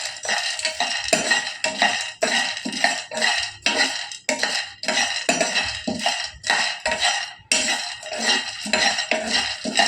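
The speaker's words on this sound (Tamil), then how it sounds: "இப்போ பொறிகடலையை வறுத்துறேன்" Fried gram being dry-roasted in a pan, stirred with a metal spoon that scrapes and clatters against the pan in a steady, busy rhythm of close, loud strokes with no talking.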